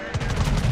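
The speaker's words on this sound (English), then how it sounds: "I get a few shots in on him to weaken him substantially" Main guns of the German battleship Bismarck fire in World of Warships, a short, loud burst of deep, rumbling blasts in quick succession.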